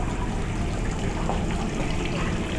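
Water from a fountain at a jungle park splashes steadily and close by in a continuous, broadband rush with no pauses.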